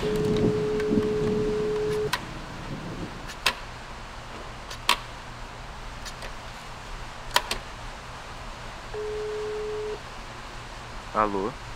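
Steady electronic phone tone after a dropped call, heard in two flat beeps, one at the start and one near the end, with a few sharp clicks and a faint low hum between them, no voices.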